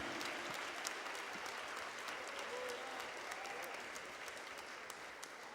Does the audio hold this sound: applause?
yes